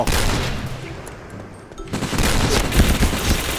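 Rapid bursts of video game gunfire crackle densely and loudly throughout, thinning briefly before a second heavier volley of shots.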